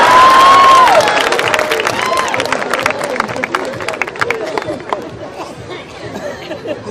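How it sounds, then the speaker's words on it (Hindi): An audience at a Hindi comedy poetry gathering reacts with a burst of cheering and crowd chatter that settles into scattered clapping and murmuring, fading gradually over several seconds. "ताली बजाओ भाई साहब, आप ही के लिए बोला हूँ।"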